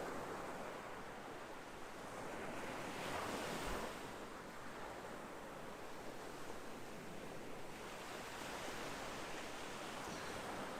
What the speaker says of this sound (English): your voice and the waves sound great together